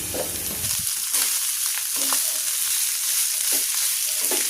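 Cooked rice with onion is stir-fried in a pan for sinangag, giving a steady sizzle with repeated scraping and tossing strokes of a spatula, close and continuous.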